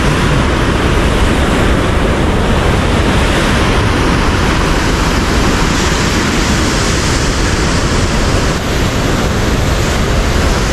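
Water rushes hard at the Leuwikeris dam on the Citanduy River, a loud, dense, unbroken roar like heavy surf that holds steady without pause from start to finish.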